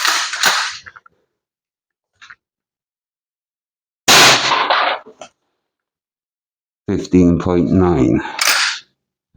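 Umarex HDX 68 pump-action airsoft shotgun, 16 joules, fired over a chronograph: a few sharp, close cracks separated by silence, with brief speech near a shot.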